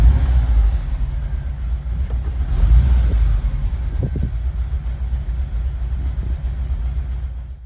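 A 1986-91 Volkswagen Vanagon with Digifant injection sits at a high idle, giving a steady, fairly loud low engine rumble that runs unbroken throughout with no voices.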